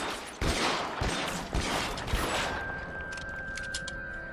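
Gunfire in the video game L.A. Noire, a rapid run of sharp loud shots in the first half, then fading into a quieter tail with a steady tone.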